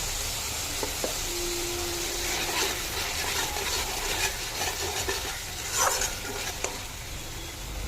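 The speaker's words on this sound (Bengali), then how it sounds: "মশলা থেকে দেখুন তেল ছাড়ছে" Spices with sugar, salt and turmeric frying in oil in a pan, a steady close sizzle with occasional stirring scrapes and small pops throughout, no voices.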